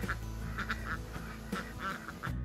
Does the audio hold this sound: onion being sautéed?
no